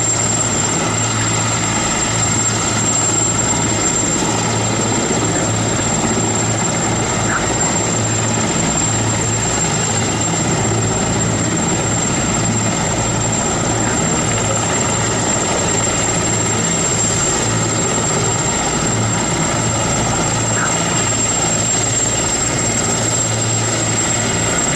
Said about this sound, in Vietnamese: Các chiếc trực thăng đang từ từ dàn đội hình theo hàng ngang.